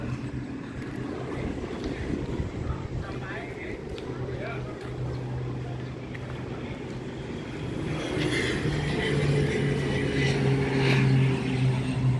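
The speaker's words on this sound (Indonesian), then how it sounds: "Oh, maksud saya pesawat yang sedang terbang." A propeller airplane flies overhead near an air force museum, a steady low engine drone that swells toward the end, with people talking over it.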